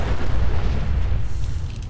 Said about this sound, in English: Car explosion.